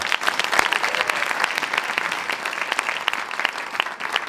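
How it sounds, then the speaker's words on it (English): An audience at an evening teacher-training session on creativity gives a round of applause, a lively field of many overlapping claps with sharp individual hits standing out, staying loud and steady to the end. "Give Liz a round of applause."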